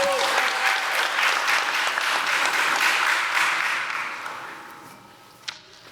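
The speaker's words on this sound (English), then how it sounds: "Keep them hands clapping for my mans, Jacob" A showcase audience claps loudly and steadily for a presenter, a thick sustained applause that fades away in the last couple of seconds.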